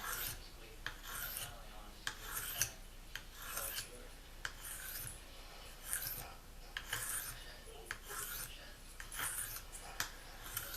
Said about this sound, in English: there are other ways to sharpen your knife by doing this